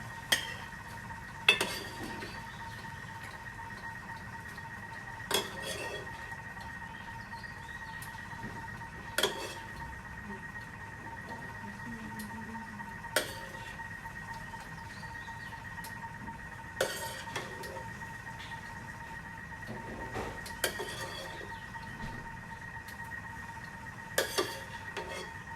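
Dishes and cutlery clink sporadically while tofu with minced pork sauce is served out in a kitchen, a series of sharp isolated clinks and taps spaced several seconds apart over a low steady hum.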